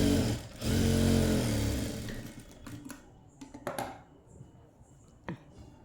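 A sewing machine stitching a folded fabric strip, a close whirring run of stitches at the start, then fading into scattered clicks and small handling taps.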